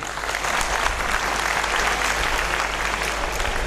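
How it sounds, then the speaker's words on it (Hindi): Sustained applause from a seated audience at a gathering, dense and steady clapping throughout with no one talking over it. "सब लोग उनके लिए तालियां बजा दीजिए"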